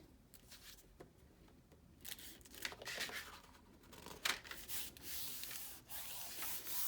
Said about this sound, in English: just burnish that down